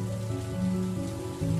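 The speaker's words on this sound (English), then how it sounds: "As the raindrops splashed on her back, she was shivering with cold." Rain splashes steadily as a sound effect, a continuous patter layered over sustained low tonal music, with no speech.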